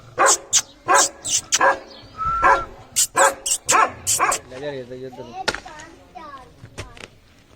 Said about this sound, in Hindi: ओ भाई कुत्ती ने भौंकना शुरू कर दिया।